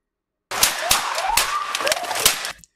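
A rapid volley of loud gunshots as a police officer fires through a car windshield at a suspect holding a flaming torch, the sharp cracks mixed with a rising whine and blaring noise, continuous for about two seconds.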